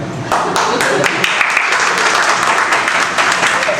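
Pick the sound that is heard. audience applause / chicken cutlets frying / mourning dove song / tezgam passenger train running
audience applause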